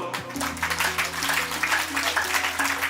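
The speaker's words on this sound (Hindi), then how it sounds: "जोरदार तालियां" Steady applause from a crowd at a Yoga Day event, dense and sustained, with some voices and a low hum underneath.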